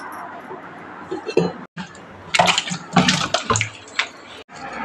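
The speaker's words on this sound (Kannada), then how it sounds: "ಇವಾಗ ನನ್ನ ಮಗಳಿಗೆ ನೀರು ಇಡ್ತಾ ಇದ್ದೀನಿ" Water being poured at home to bathe a small daughter, splashing in uneven bursts with clinks of a vessel and brief pauses between pours.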